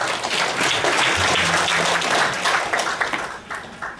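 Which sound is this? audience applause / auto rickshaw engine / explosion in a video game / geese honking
audience applause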